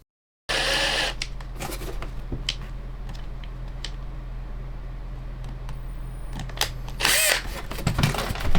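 A power drill bores into the frame of an old iPhone, a steady close whir running throughout with a few sharper bursts and a louder surge near the end.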